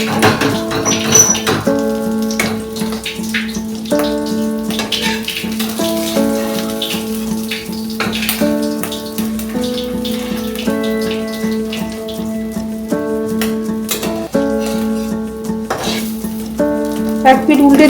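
Fish roe fritters fry in oil over a low gas flame and are turned, giving a steady, close sizzle that runs throughout beneath a layer of tonal background music.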